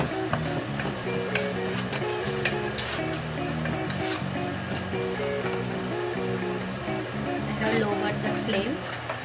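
Semolina soup ingredients with turmeric, chili powder, salt, coriander and garam masala sautéing in a pan, a steady loud sizzle and scraping stir under background music while someone talks.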